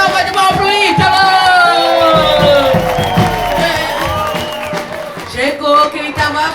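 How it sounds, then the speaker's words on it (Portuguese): Crowd cheering and whooping for a young samba de bumbo player, with shouts and voices over a dense, loud, steady roar of people; any clapping is buried in the cheering. "Uma salva de palmas pro Ítalo!"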